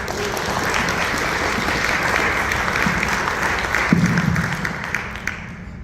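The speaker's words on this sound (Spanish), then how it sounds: "Julián, bienvenido, un fuerte aplauso." Audience applause welcoming a speaker named Julián to the stage at a programming conference talk, a steady wash of clapping from a crowd that holds evenly for several seconds.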